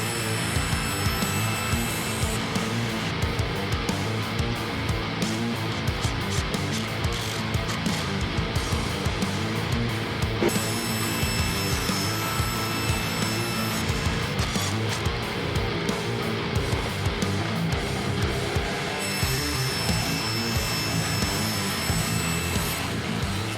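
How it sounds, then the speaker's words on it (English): A table saw with a cross-cut sled cuts an angle in wood for a shadow box, a loud steady whirring drone that runs without a break and with no voices. "Then I'll put the cross-cut sled on the table saw, and we'll cut our angle"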